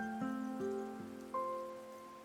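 Rain falls in the Tower of Fantasy video game, a soft steady patter beneath sustained tonal music notes that step up and down, with no voices.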